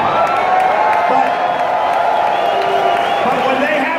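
A large crowd at a Trump rally in Indianapolis roars steadily, a dense wash of cheering, whoops and clapping that stays loud and continuous throughout with no clear pauses.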